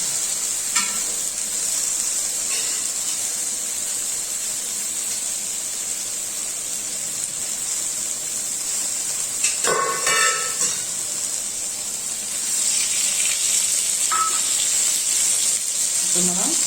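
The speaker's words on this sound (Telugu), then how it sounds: "ఇదంతా కలిపి మరొకసారి ఫ్రై చేసుకోవాలి." Grated coconut fries in a pan, giving a steady, bright, loud sizzle throughout with a few brief clatters of stirring partway through.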